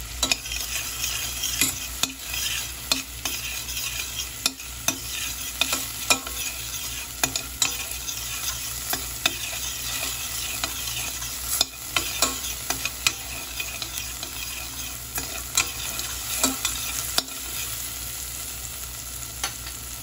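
Carbonara sauce with dairy cream and garlic is stirred in a frying pan, a steady loud sizzle with repeated scraping strokes throughout and no talk.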